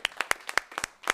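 Audience clapping at a sports event, a run of sharp, close hand claps in an uneven rhythm that comes in bursts over about a second, with no voices heard.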